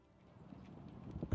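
Horse hooves clip-clop at a walking pace in the medieval game Kingdom Come: Deliverance, soft and distant at first and then growing louder and closer, ending in a heavier thud.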